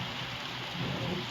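Rain falls steadily inside a Roblox video game, a dense, even hiss of drops with no voices and a faint high tone running above it throughout.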